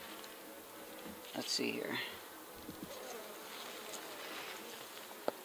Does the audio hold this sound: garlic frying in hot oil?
no